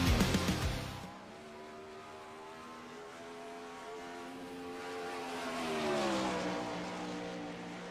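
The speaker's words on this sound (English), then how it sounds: "yes, you hear the sound of the cars now" Sprint cars race at Knoxville Raceway in the iRacing video game, their engines droning and revving in layered pitches that rise and fall as the pack passes, after a louder burst at the start.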